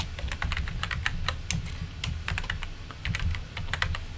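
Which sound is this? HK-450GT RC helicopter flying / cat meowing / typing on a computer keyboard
typing on a computer keyboard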